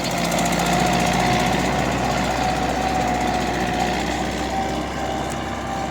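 A tractor engine, an MTZ-80 on rubber tyres, drones steadily while pulling a plough through field soil. The loud, continuous mechanical rumble holds for the whole stretch, close to the listener, with no talking.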